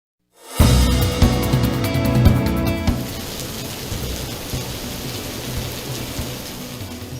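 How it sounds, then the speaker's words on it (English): Torrential rain pours down during North Texas flash flooding, a loud, dense roar of water that starts abruptly and continues unbroken, briefly overlapping a fading musical sting at the start. "Torrential rain leads to flash flooding across North Texas"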